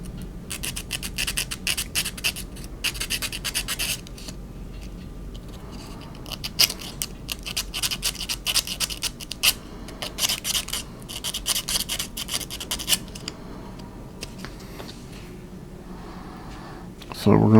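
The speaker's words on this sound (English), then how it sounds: "I'm going to give that a little sanding because it's got some of the little wood burr" Sandpaper rubs over a small wooden part of a ROKR model locomotive to clear a wood burr, making close, rasping strokes in irregular bursts that come and go.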